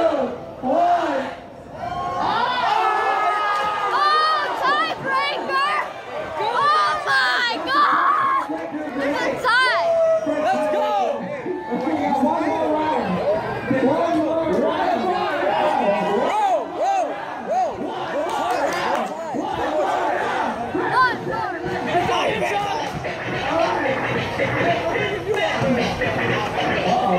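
A crowd at a breakdance battle shouts and cheers steadily, with dense overlapping voices and whoops that rise and fall in waves, loud and close, alongside chatter.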